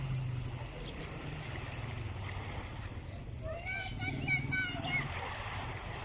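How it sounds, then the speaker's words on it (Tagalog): Water waves wash steadily near wooden fishing boats at the waterfront of Baseco, Tondo, Manila, a continuous close surf with a few brief high chirping calls rising partway through. "Ayan po yung mga alon ng tubig."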